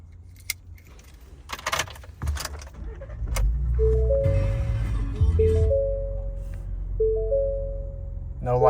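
A 2019 Ford Raptor starts up: keys jangle and a few clicks come first, then the engine cranks and settles into a low, steady idle while dashboard chimes ring over it.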